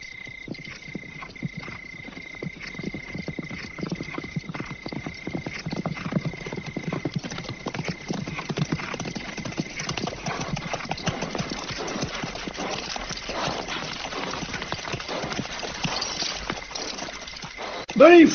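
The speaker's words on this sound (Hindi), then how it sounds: "बड़ी फौज है, 3000 तो होंगे, सैकड़ों घोड़े हैं।" A large cavalry army of hundreds of horses gallops in a dense, continuous drumming of hooves that rolls steadily for the whole stretch, loud and close, with a sharp burst at the very end.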